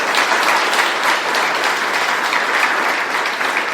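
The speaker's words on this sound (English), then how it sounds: "Can you give them a round of applause" Loud, sustained audience applause filling the room at a mayoral tour event at a defense manufacturing site, dense steady clapping from many hands without a pause.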